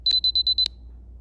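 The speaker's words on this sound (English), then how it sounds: "you'll hear those same 6 short beeps, and a red alert box will pop up" GPS course marker web app alert sounding six short, high electronic beeps in quick, even succession, clear and alone against near silence.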